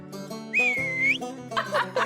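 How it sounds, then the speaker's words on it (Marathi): A person whistles a short, sliding melodic tone, clear and close, rising and dipping over about two seconds against a soft musical background. "शिट्ट्या काय वाजवत बसले?"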